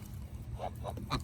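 A goose sitting on a low bench among turkeys and other birds gives three short, quiet honks about a quarter second apart over a low background rumble.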